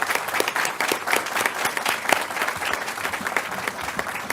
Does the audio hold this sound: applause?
yes